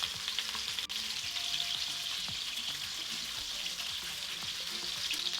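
Salmon fillet sizzling in a hot pan just after being flipped: a steady, close, crackling fry with dense spitting oil and no voices.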